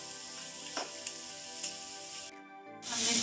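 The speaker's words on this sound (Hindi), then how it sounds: "हमने सब्जी को 3 से 4 मिनट तक भूना है।" Chopped vegetables for an egg omelet sautéing in a pan, a continuous close sizzle with a few light clicks. The sizzle briefly drops out, then returns louder at the end.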